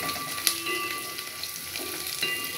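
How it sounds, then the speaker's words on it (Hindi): Food frying in a pan gives a steady, fairly soft sizzling hiss with a few faint stirring taps, heard alone and close. "इसको अच्छी तरह से फ्राई करना है"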